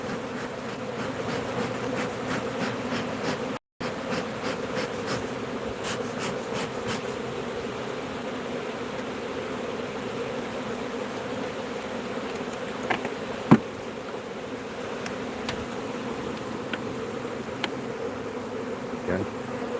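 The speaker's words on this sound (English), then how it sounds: "We got a lot of bees flying here. Yeah, these bees are really humming." A swarm of bees drones steadily close by at a beehive, a dense continuous hum with scattered clicks and taps of handling.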